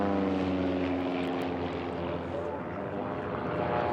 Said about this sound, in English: Listen to those planes go by that pylon.